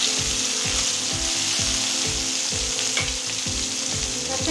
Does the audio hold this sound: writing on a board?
no